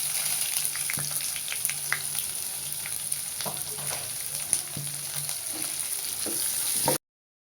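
Chopped onion fries in oil with a bright continuous sizzle and scattered crackles, along with occasional stirring clinks, close up. The sound stops abruptly near the end.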